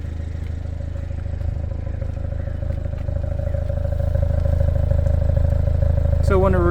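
A 2014 MINI Cooper S idles after a cold start, recorded at the exhaust: a steady, loud low drone with an even pulse that builds slightly, ending in a brief higher chirp.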